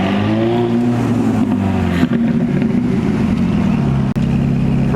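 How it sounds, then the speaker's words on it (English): V8 Jaguar F-Type sports cars rumble past at a car show, their loud, deep engine drone steady and close throughout. "We got the V8 F-Types coming up."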